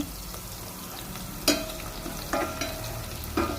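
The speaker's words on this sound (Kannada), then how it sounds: "ಈಗ ಕರಿಬೇವಿನ ಸೊಪ್ಪು ಹಾಕೋಣ." Curry leaves dropped into hot oil for a tomato gravy, giving a steady sizzle with a few sharp crackling bursts and stirring scrapes nearby.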